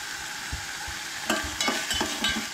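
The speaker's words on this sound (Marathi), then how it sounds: "तर हे बरें तळसळून घेवंक जाय" Tempering for Goan mixed dal sizzling in a pan with onion and chilies, a steady close hiss of hot oil joined by a series of sharp scraping stirs in the second half.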